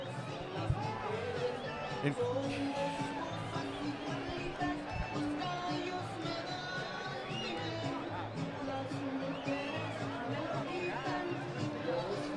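Boxing arena crowd warmly receiving fighter Rafael Marquez, a steady murmur of chatter and applause from a large audience, moderately loud and continuous, with a commentator speaking over it.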